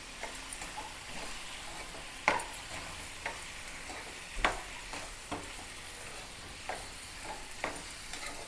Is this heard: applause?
no